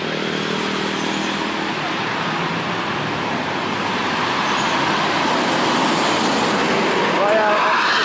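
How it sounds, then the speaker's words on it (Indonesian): An ANS Royal Executive Class bus pulling out of Payakumbuh bound for Jakarta, heard as a loud, steady engine and road rumble amid roadside traffic noise, with voices talking over it. "Bus kedua yang berangkat dari Payakumbuh tujuan ke Jakarta."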